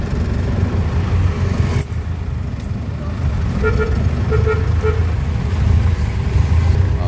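Jeeps and minibuses pass along a busy road heading to Terminal 1, a loud continuous rumble of engines and tyres with a brief horn toot partway through.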